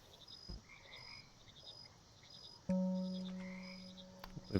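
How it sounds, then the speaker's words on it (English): Frogs croaking in the frog management game Mudborne: a few soft chirps over a quiet ambient bed, then a loud sustained croaking drone near the end with small trills on top, close and clear with no talking. "So we'd have to spawn some frogs."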